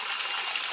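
Mineral water flows at a rest camp as a steady, bright rushing hiss, close and continuous, with no voices in this brief moment.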